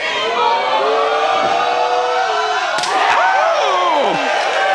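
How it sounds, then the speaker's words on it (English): A packed wrestling crowd at the Mid-Atlantic Sportatorium roars loudly and continuously, with shrill whistles and rising cheers and a sharp slam-like crack near the middle. "Listen to this crowd that has packed the Mid-Atlantic Sportatorium."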